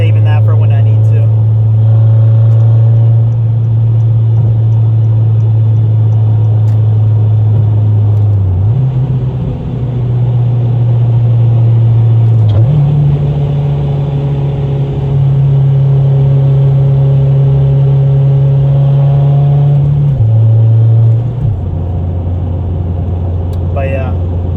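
Engine of a ninth-generation Honda Civic Si with full bolt-on modifications drones while driving, its pitch stepping up and down through shifts at moderate RPM, loud and steady from inside the cabin.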